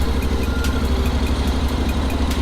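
A motorcycle engine idles steadily up close, with a low, even rumble and faint periodic ticks, and no voices over it.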